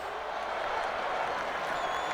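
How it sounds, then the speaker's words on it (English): Crowd applause beneath the podium after a race in the video game MotoGP 19, a steady, dense wash of clapping and cheering throughout, moderately loud with no clear voices. "these three guys deserve the applause of everyone under the podium."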